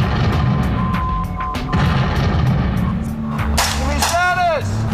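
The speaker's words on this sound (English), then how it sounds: "we got artillery coming in friendly" Incoming artillery explodes during a military exercise in woodland, with heavy rumbling blasts under a constant loud roar, ending in a sharp crash and a warbling whine.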